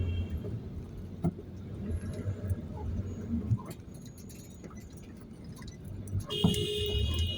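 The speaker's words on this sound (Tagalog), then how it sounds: "Grabe yung traffic mga idol." Heavy road traffic along Boni to G. Araneta is a faint, distant mix of engine noise and small clinks, with a brief horn toot near the end.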